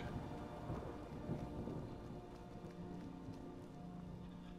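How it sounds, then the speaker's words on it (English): Thunder rumbles through a rainstorm in Skyrim Special Edition, a low rolling roar over steady rain hiss, with no voices. "There is still a thunder."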